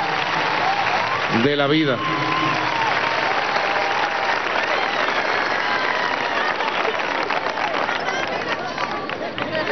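A large crowd in the Poliedro de Caracas applauds at a graduation ceremony for thousands of new doctors, a loud sustained wash of clapping and cheering, with a voice briefly heard over it near the start.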